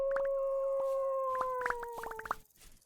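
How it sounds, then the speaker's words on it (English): Wolves howling in the video game Vintage Story, several long overlapping tonal howls rising and holding steady with sharp yips and barks breaking in near the end, fairly close and with no talk over them. "Whenever they do that howl, I think it means that they've picked up my scent."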